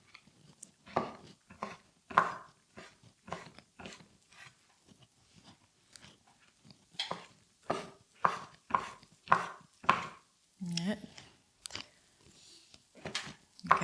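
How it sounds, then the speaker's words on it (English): Oyster mushrooms are cut lengthways with a knife on a board, a brisk series of close, crisp chops in uneven rhythm with brief pauses. "they're quite easy to chop. So I'm just going lengthways in here."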